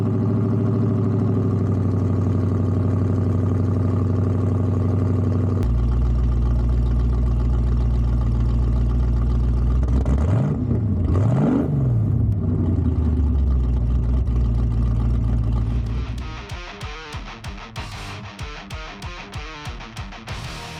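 A forged 5.7 Hemi V8 in an R/T cold starts and runs at a loud, deep idle close by. The revs swell and fall in a couple of blips, then the engine settles into a choppy, pulsing lope.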